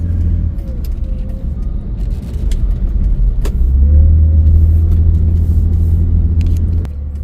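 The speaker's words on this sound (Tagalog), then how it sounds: "Traffic tayo dito" Steady low road rumble and engine drone from inside a 1990 Ford F150 with a 4.9L engine, moving through traffic. The sound is continuous and close, swelling slightly midway, with no talk.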